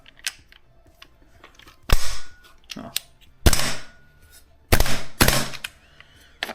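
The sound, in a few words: airsoft GHM-9 gas blowback SMG firing with Glock 18 magazine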